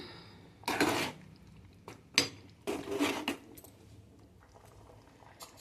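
A spoon scrapes and clanks against a metal pot while fried cashews, almonds and raisins are stirred into rice pudding, coming in a few distinct bursts of close stirring separated by quiet gaps.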